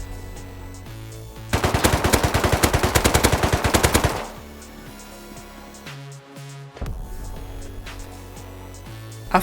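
Rapid automatic gunfire in the video game Rust, a loud sustained burst of closely spaced shots lasting a few seconds, then quieter game ambience with music-like tones.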